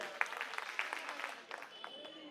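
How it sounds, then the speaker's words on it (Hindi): Applause from a crowd at an Aam Aadmi Party election rally in Dwarka, Delhi: a dense patter of clapping with sharp peaks, mixed with voices and cheering throughout. "इनके लिए जोरदार तालियां बजा दीजिए"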